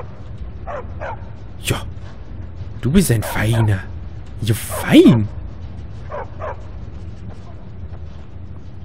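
A dog barks and yips in the video game Skyrim, a few short barks and whines mixed under steady game ambience while someone talks over them.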